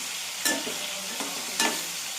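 Bitter gourd curry is stirred in a hot pan, a constant hiss of frying broken by three sharp scraping strokes of the spoon against the metal.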